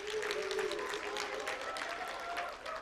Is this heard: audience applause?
yes